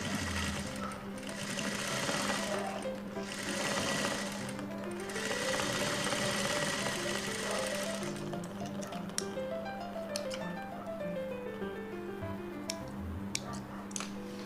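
A sewing machine stitching a blouse runs in quick, steady bursts with brief pauses between them, close and moderately loud, and ends in a few scattered light clicks.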